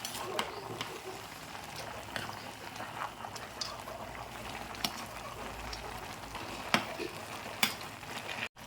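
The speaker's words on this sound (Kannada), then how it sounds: "ನೋಡ್ರಿ ಇವಾಗ ಕುದಿಕತ್ತದ್ರಿ" A pot of water on a gas stove comes to the boil, a soft bubbling and hissing with scattered pops and ticks, faint and fairly steady, without speech.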